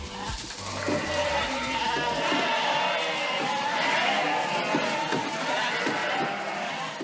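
Lambs bleat inside a busy sheepfold in Aveyron that houses hundreds of newborns, with overlapping nearby cries over a constant crowded rustle of the flock and faint voices.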